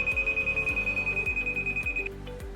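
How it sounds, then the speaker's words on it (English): An INVenTT device sounds its medium priority alarm: a steady high electronic tone with rapid repeating pulses, fairly loud and close, then the tone cuts off near the end. "a medium priority alarm is activated and the yellow LED starts glowing"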